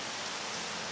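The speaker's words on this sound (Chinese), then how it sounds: "现在正在下雨" Rain falling outside, a steady, even wash of hiss at moderate level for one second with no voices or other sounds.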